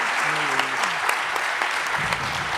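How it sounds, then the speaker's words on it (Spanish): Loud, sustained applause from an audience closing a talk at the Semana Negra literary festival, steady dense clapping with some voices and crowd murmur mixed in throughout. "Y este fuertísimo aplauso con el que acaba esta charla y empieza la siguiente"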